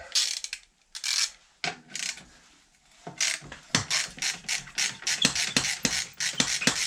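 A ratchet wrench clicks in quick bursts while loosening the clamp on an Akrapovic exhaust on a 500 motorcycle, with close, loud rapid ratcheting strokes separated by brief pauses.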